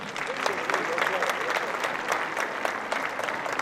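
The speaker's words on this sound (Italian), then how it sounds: "Applauso!" Theatre audience at a stage show claps warmly, a continuous even patter of many hands at moderate distance, filling the short stretch without any talk over it.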